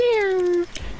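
A single drawn-out meow, apparently a player's voice imitating a cat during an online multiplayer game, sounds loud and close for under a second before a brief thud.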